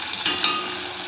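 Asafoetida and green chillies tempering in hot oil, a steady broadband sizzle with two brief louder crackles near the start, close and moderately loud throughout the short moment, with no talking.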